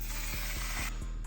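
A makeup setting spray mists over a face in a steady hiss lasting about a second, with a few regular mechanical clicks from the pump underneath.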